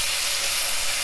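Onion and green chilli fry in oil for a semolina biryani, giving a loud, steady sizzle with a bright hiss and no voices over it.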